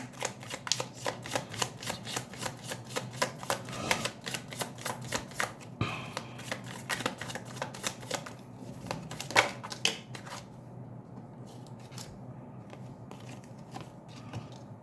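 Tarot cards shuffled and drawn from a deck, a fast run of crisp riffling flicks and snaps for several seconds, then scattered softer card slides and taps as cards are pulled, close and fairly loud with no talking.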